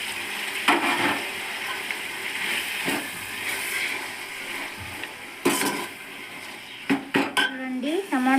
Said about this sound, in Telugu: కట్ చేసిన టమాటాలు వేద్దాం.